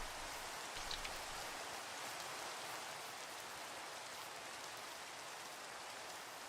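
Rain falls in the Minecraft video game as a steady, even hiss of raindrops on surfaces, soft and uniform throughout, with no other sounds or voices.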